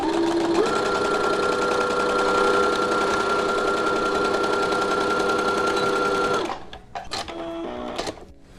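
A sewing machine runs a half-inch seam on a face mask panel in one long steady whirring burst with a humming tone, then stops, followed by a few short clicks and brief stitches.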